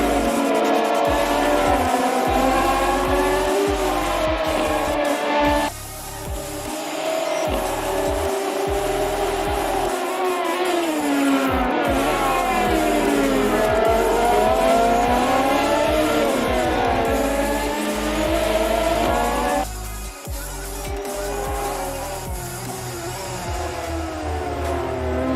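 Race cars lapping the Bushy Park circuit in Barbados during a Caribbean Motor Racing Championship round, engines roaring continuously and loud with rising and falling revs as cars pass close by, occasional tire squeal, no speech.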